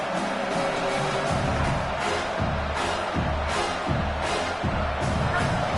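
Home crowd roaring at an American football game as the defense tries to stop a third down, a steady dense wall of stadium noise with rhythmic swells throughout.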